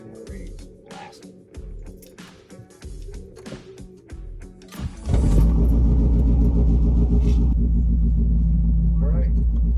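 A Saab Sonett engine cranks and catches at about five seconds, then settles into a loud, steady rumbling idle close by; before it starts there are cabin clatters and bumps.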